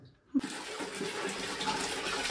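Tap water running into a bucket in a resort bathroom near Sakleshpur, starting with a click and then a steady, close, full rush that continues to the end.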